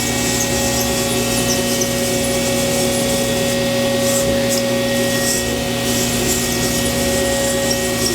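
A Haas vertical machining center runs steadily as its Z axis travels, producing a continuous loud mechanical whine with a steady hum and tonal drone and no break throughout.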